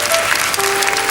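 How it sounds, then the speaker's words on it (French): A television studio audience on a 1977 French children's talent show applauds a young girl named Sarah, the clapping loud, close and steady throughout while a faint tone hums beneath it. "on applaudit très fort la charmante Sarah"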